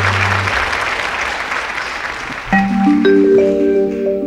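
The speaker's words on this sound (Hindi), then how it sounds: "जोरदार तालियां हो जाए कैदी भाइयों के लिए।" Loud audience applause at a comedy show fills the space with thick, sustained clapping, and music with held tones comes in partway through.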